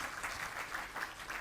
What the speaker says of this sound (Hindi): जोरदार तालियां बजा दीजिए उनके लिए।